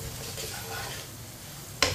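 Spices cooking over a very low flame in a pan while a spoon stirs them, a soft continuous sizzle with a sudden metallic scrape at the very end, close by and without voices.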